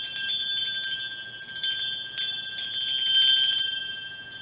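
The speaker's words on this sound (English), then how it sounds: "Could you figure out that that was a bell that I was ringing?" A small hand bell rings out clearly on its own in a quiet room, its bright metallic tone repeating in several shakes and then fading.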